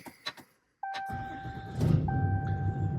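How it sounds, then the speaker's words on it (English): A truck engine cranks, catches and settles into a steady idle up close, with dashboard chime tones ringing over the rumble and no talk. "We'll turn the truck on."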